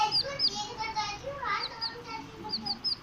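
A baby chick chirps up close indoors, giving a quick series of thin, high peeps that come in bursts, with a voice talking underneath.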